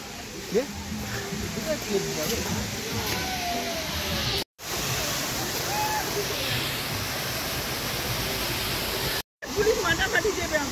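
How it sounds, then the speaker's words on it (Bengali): At the Rock Garden in Darjeeling, a waterfall pours and flows downward as a steady broadband rush, loud and continuous apart from two brief cuts, with people talking over it. "এখান থেকে জল পড়ছে, জল চলে যাচ্ছে সেই নেমে কত নিচে"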